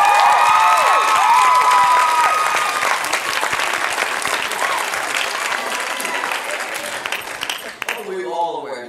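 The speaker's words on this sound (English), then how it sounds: "can we just get like some applause?" A large fan-event crowd applauds loudly, with scattered cheers and whoops rising over dense, continuous clapping; talk and shouts mix in, and the applause tapers near the end.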